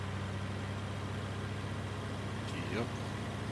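Tractor engine in the Farming Simulator game's Alpine Farming Expansion, a constant low rumbling drone held steady for a few seconds, with a brief voice near the end.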